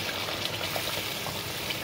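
Rinse water from a spice bowl poured into a simmering brinjal curry in a kitchen, a steady soft watery gush with faint splashing throughout, fairly quiet and with no talk.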